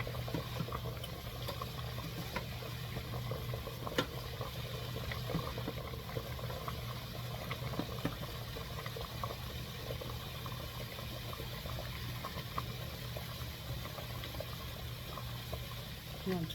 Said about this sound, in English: it's still boiling.